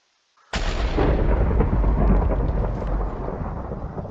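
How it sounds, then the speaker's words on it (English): After a brief hush, a loud video-game lightning strike erupts as a pillar is removed, breaking into a long, heavy thunderous rumble that sustains and slowly fades. "it also strikes lightning when it gets removed, so it's pretty neat"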